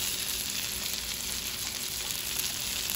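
Beyond sausages (brats) fry in butter in a pan with a continuous, even hiss of sizzling, moderately quiet and close, steady from start to finish with no talking.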